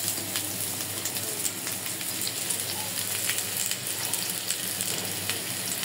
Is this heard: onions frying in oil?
yes